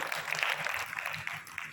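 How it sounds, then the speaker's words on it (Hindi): A small group claps for a calligraphy student during a handwriting lesson, a brief patter of scattered, light hand claps at moderate distance. "ये तालियां बजा दीजिए इनके लिए।"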